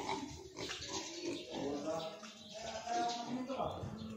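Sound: pigs on a farm

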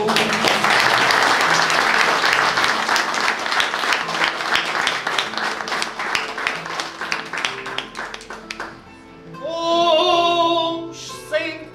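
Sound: audience applause

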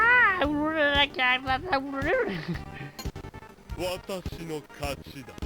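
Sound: cat meowing

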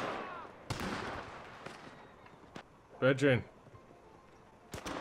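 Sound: gunshots in the video game Red Dead Online

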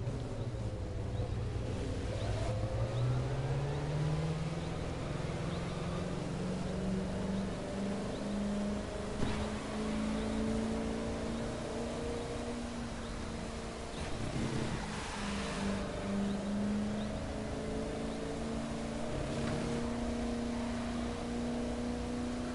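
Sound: cars driving on a race track in video game The Crew 2

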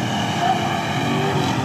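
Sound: supercharged 4x4 drag racing engine on a run

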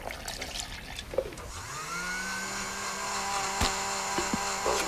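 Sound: blender blending milk and breakfast sausage

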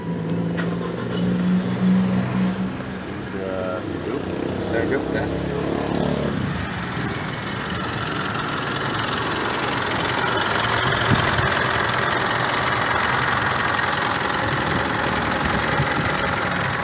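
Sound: Mitsubishi Pajero Sport 2.4 diesel engine starting and idling

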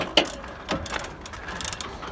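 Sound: ratchet removing brake calipers from Ford Focus

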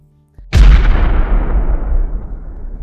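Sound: explosion bang sound effect, house collapsing

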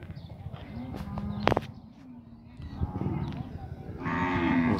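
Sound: Nelore cattle mooing in a livestock fair pen

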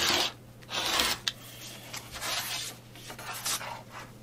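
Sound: blade cutting fabric strips for crumb quilting

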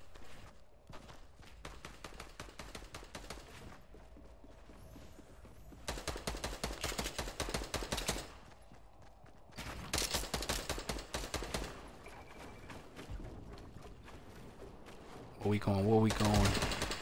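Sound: gunfire in the video game Fortnite

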